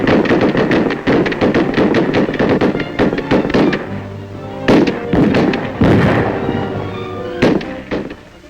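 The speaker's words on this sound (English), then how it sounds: "The rifle range at Bureau headquarters in Washington, and the targets might be gangsters. Intermittent firing." Rifle fire at the FBI range at Bureau headquarters in Washington, a rapid run of loud, sharp cracks and booms in irregular bursts with short gaps, near and dominant throughout.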